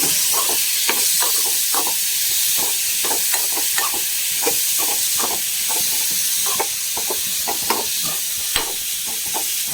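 Mango side dish being stirred in a hot pan, with steady sizzling and hissing under repeated scraping strokes of the spoon, close up and with no talk.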